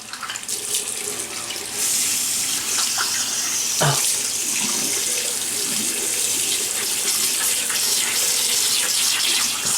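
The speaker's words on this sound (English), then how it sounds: "let me wet the face" Water runs and splashes steadily from a tap as a face is wetted before a shave on six or seven days of growth, close and continuous with no talking.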